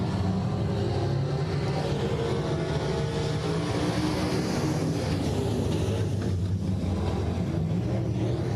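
A field of race cars on the Heart O' Texas Speedway oval makes a dense, unbroken engine roar that stays loud and steady throughout, with no voices.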